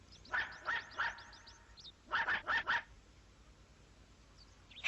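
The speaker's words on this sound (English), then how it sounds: "Henry, I just couldn't be mistaken about that bark." A cartoon dog barks in two quick bursts, a run of short yaps followed by a second cluster of four sharp barks, moderately close with quiet pauses between.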